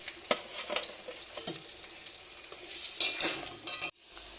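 Onion fritters and potatoes fry and are stirred in hot oil, giving a steady crackling sizzle broken by clattering scrapes, with a kitchen chimney fan humming behind and a sudden drop near the end.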